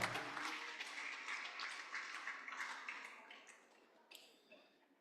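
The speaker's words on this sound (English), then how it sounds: "Let's give a round of applause." After an item sells at a Rotary Club charity auction dinner, the room breaks into applause that starts full and gradually thins and fades, fairly quiet overall, with a brief tap near the end.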